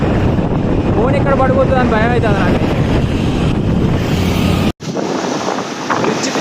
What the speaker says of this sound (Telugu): పిచ్చి గాలి ఉంటుంది ఇక్కడ